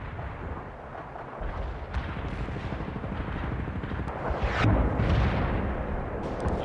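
Artillery fire support in the Cold War strategy game World in Conflict: a continuous dense roar of distant shelling, with heavier booming impacts swelling toward the end.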